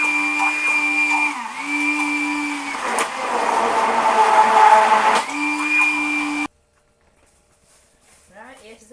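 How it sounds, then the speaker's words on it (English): A stick blender whirs loudly for several seconds, its motor pitch dipping and straining as it churns thick tomato sauce, then cuts off abruptly into silence. "I'm going to whiz this up using the stick blender"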